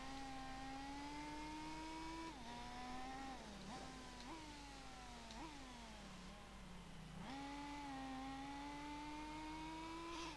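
Subaru race car engine in Gran Turismo 4, running on sports tyres, holds a loud, steady high-revving drone with repeated shifts where the pitch drops and climbs again, continuous throughout.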